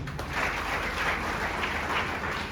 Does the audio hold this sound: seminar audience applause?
yes